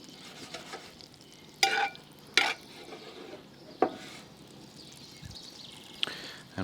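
Mangalitsa pork browns gently in butter in a pan with a quiet, continuous sizzle. Several sharp clinks and scrapes of a utensil or pan punctuate it at irregular intervals, and no one speaks.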